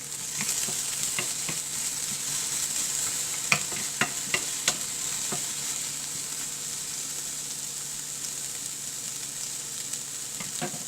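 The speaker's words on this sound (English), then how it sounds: "Then you have to add the tomatoes." Tomatoes frying with golden-brown onions in a pan for a tofu kofta curry gravy, a steady close sizzle with several sharp scraping and tapping stirs from a utensil.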